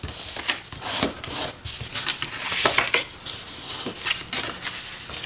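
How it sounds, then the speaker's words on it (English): Paper score lines are folded and burnished by hand, giving close, dry rubbing and scraping strokes in irregular bursts, with small crinkles and taps between them. "let's fold and burnish these score lines"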